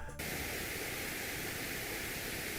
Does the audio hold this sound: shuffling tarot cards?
no